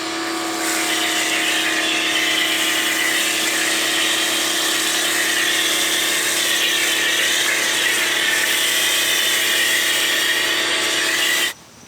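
A pressure washer sprays a car in one loud, steady hiss that runs unbroken for about eleven seconds, then cuts off abruptly at the end.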